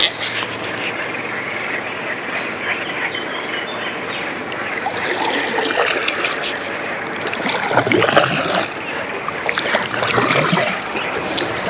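Kayak paddling on a river, with steady water splashes and trickles from the paddle strokes, a continuous wash that grows fuller toward the end, close to the boat.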